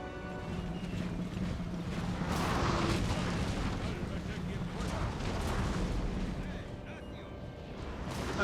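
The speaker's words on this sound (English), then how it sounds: "We've got our cannons forcing some fire upon them." Cannon artillery fire in a Napoleon: Total War battle, heard as a dense, continuous low rumble with scattered dull booms rising and falling over a steady background drone, without any clear break.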